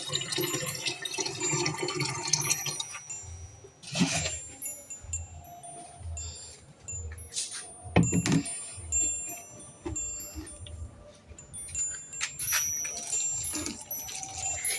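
Water runs and splashes into a container, filled for watering rooftop garden plants at night, with a steady wash of flow, a few louder splashy bursts and scattered clinks.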